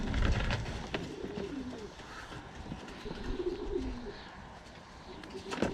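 A racing pigeon coos in low, soft, rolling phrases amid a busy loft with other birds, faint rustling and background noise throughout.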